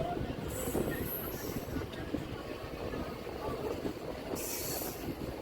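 Interior of the Bardhaman–Katwa local train, a passenger service in India: a faint, steady rolling rumble with rail clatter and two high wheel squeals, with murmured voices in the background.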